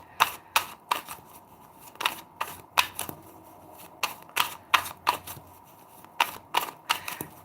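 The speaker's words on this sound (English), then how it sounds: "I am now shuffling my cards for this reading" Tarot cards are shuffled in sharp, evenly spaced snapping clicks, about a dozen distinct bursts in a steady rhythm, close up and alone with no talking.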